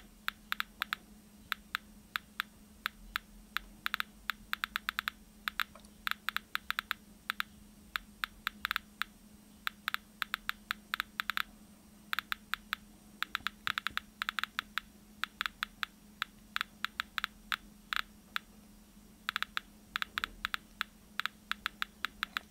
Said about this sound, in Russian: в головных телефонах мы четко слышим щелчки